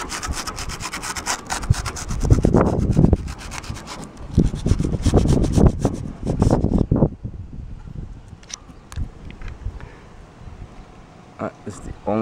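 Hand sawing with a bent, broken hacksaw blade, a rough rasping back-and-forth stroke repeated in uneven bursts, close and fairly loud, with pauses between runs of strokes.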